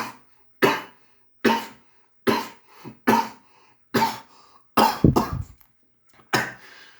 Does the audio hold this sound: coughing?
yes